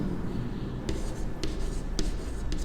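Pen or marker writing during a commerce maths lesson, several short scratchy strokes spaced irregularly over a steady background hiss, close and moderately loud, no voices.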